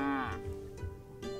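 A cow moos once, close and clear, with a rising drawn-out call in a milking scene, followed by quieter shuffling sounds.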